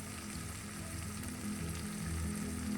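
Spice powders sizzling in hot oil for a homestyle mackerel fish curry, a steady low frying hiss that holds evenly throughout with no talking.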